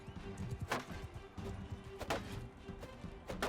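Hoofbeats of a heavy horse archer's mount galloping in the battle game Mount and Blade 2 Bannerlord, a steady clip-clop under busy combat noise with a few sharp louder hits.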